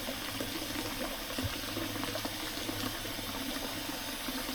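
Water runs steadily into a tub to fill a bubble bath at a resort, a continuous gushing, bubbling rush at an even level from start to end, with no voices.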